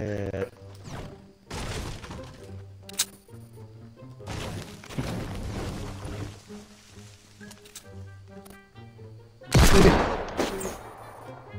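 Gunfire in a battle royale video game, scattered bursts and single shots with a loud blast near the end, heard under ongoing talk between players.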